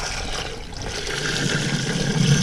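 Water draining out of a farm's well house line to the pump during winterizing, a steady, loud rushing gush that builds slightly over a few seconds.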